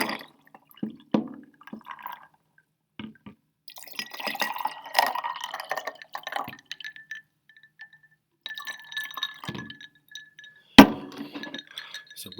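Water poured into a glass set up for an ice-melting heat experiment, heard as scattered clinks and small splashy trickles that come and go, with a sharp glassy knock near the end.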